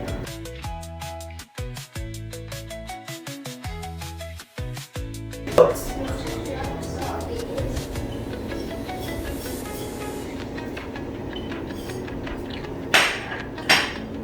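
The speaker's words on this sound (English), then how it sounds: "Let me blend my ingredient first." Onion, peppers, garlic and ginger for banga soup are blended. A few seconds of sharp knocking taps come first, then a blender starts and runs in a continuous whirring grind for about nine seconds, with a couple of louder surges near the end.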